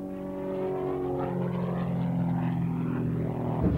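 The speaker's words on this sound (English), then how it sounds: "now I fly an Extra 260" An Extra 260 aerobatic airplane of wood and composite build, flying at an air show at Moffett, gives a steady propeller drone that shifts in pitch as it passes, moderately loud and alone.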